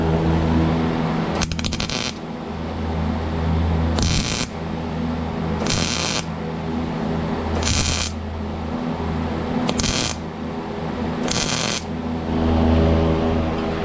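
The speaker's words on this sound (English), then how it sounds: "this MIG welder is what I have, this is the wire I have, and this is the gas that I have" A MIG welder stitching an exhaust pipe for a hood-exit exhaust fires in six short bursts of harsh, crackling buzz, each about half a second to a second long, separated by pauses over a steady low hum.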